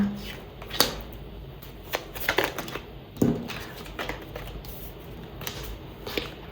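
Tarot cards are shuffled by hand in a series of close, crisp riffles and snaps, irregular bursts over a quiet room while a person speaks softly in Mongolian.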